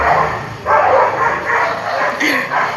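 Dogs bark out in a residential street, a few loud yips and woofs in short bursts with a brief higher whimper near the end.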